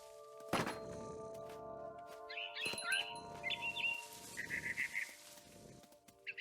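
A frightened bird in What Remains of Edith Finch gives a string of quick, bright chirps and trills, some doubled, over steady low game ambience, opening with a sharp thump.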